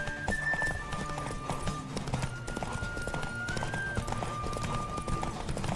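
Horse hooves clip-clop steadily at a gallop in The Witcher 3 video game, a continuous rhythmic beat mixed with game music and ambient sound, moderately loud throughout.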